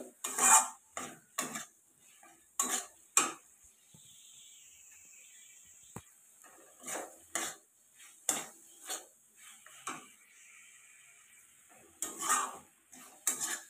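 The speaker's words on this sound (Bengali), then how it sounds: "দেখো, ভেজে রাখা আলুটা দিয়ে ভালো করে নাড়াচাড়া করতে হবে।" Fried potatoes with spices stirred in a pan for aloo paneer: irregular metallic scrapes and clanks of a spatula in bursts, separated by quiet pauses with a faint sizzle, close by and unaccompanied by speech.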